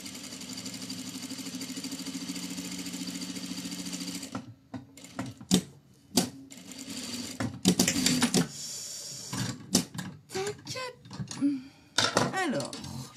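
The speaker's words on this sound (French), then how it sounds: "Et je viens coudre à 1 cm en laissant une ouverture sur le haut de ma poche." A sewing machine stitches a pocket seam, first with a steady whirring hum, then in short stop-start bursts mixed with clicks and handling knocks. A person talks over the sewing.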